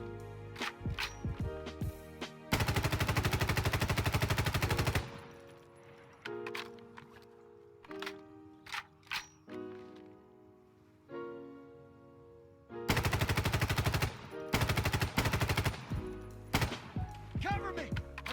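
Rapid bursts of automatic rifle fire in a tactical shooter video game, two long loud volleys at the start and end with shorter shots between, mixed with game music and effects.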